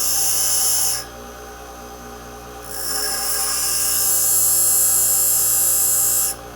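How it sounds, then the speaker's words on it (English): Bench grinder sharpening a drill bit: a steady hissing grind with a bright high edge that drops away, then returns and holds until the end, with no talk. "put it on the grinder, and just hold it a little bit until it's ground down the right size"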